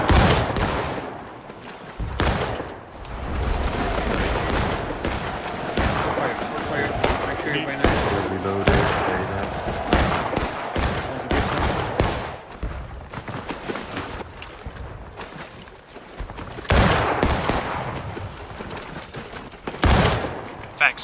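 Musket volleys in the American Civil War game War of Rights, crackling rolls of many overlapping shots from near and far that keep going in waves while players call out to each other.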